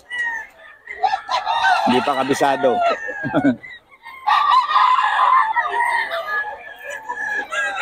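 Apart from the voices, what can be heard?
chickens and roosters crowing and clucking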